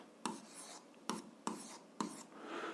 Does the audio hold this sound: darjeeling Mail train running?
no